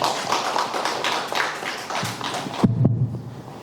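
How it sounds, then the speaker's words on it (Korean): Audience applause at a Daejeon city inter-agency safety cooperation meeting: dense, even clapping for about two and a half seconds that cuts off abruptly, followed by a brief low sound. "뜨거운 박수 부탁드리겠습니다"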